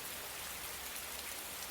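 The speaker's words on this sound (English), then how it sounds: "Damn, this rain" Steady rain falls in a soft, even hiss with no voices, a continuous wash of drops on a surface throughout.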